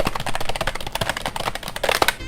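Fast typing rattles on a Logitech G213 membrane keyboard, a dense stream of close, soft-edged key clicks with irregular rhythm and no voices.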